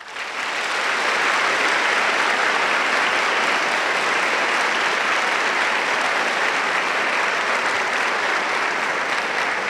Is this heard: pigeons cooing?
no